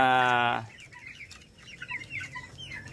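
Backyard poultry being caught for vaccination: a loud squawk at the start, then scattered nearby clucking and soft fowl murmurs, close and moderately loud.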